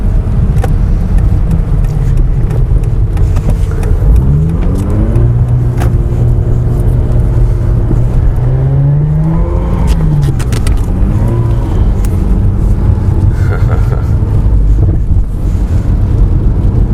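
A Mazda RX8 drives and slides on an icy road, its engine droning and revving up and down under heavy wind rumble, loud and steady throughout with no talking.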